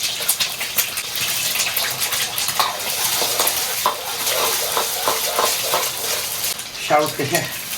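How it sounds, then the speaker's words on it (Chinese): Cantonese rice noodles stir-fried over high heat in a wok, with continuous loud sizzling and scraping of the spatula against the pan, close up, with a brief voice near the end. "炒这个广州米粉就得用这个火"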